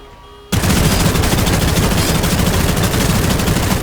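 A Thompson submachine gun fires a loud, sustained burst in the vampire battle royale game Bloodhunt, its rapid shots running nonstop close up after a brief quiet start.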